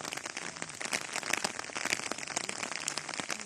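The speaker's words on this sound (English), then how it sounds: "It's still raining, but we are gaining altitude." Rain falling on a hiking trail on Mount Kenya, a quiet, continuous patter of drops on foliage and ground, dense and steady with no voices.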